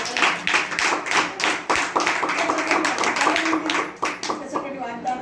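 Congregation clapping loudly at a cottage prayer meeting held in a family home, a close, vigorous burst of many hands beating in a quick, uneven rhythm throughout, with a voice speaking under the clapping.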